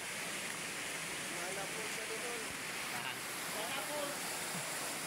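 Wana Falls waterfall, a steady broad rushing roar of falling water close by, with faint voices under it.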